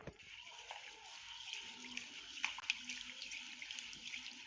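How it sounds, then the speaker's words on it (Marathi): Whole masoor lentils rinsed under a running tap in a kitchen, a steady broadband stream of water with a few small splashes and clinks, fairly close and alone without speech. "कप अख्खा मसुरा घेतलेला आहे तो आता स्वच्छ धुवून घेते"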